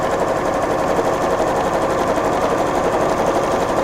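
Sewing machine running steadily as it stitches quilting lines across a tote bag, a continuous close, even whirring hum with no pauses and no voices.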